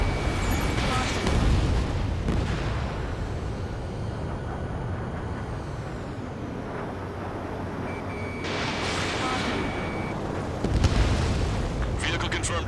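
Vehicle explosions in the aerial combat game Ace Combat 7 Skies Unknown roar as heavy, sustained rumbling blasts, surging loudly at several points over a dense, continuous battle din.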